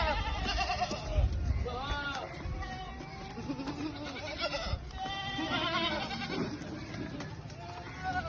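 Shikar goats bleating at a goat farm, several animals calling in overlapping, repeated cries close by, with voices talking in the background throughout.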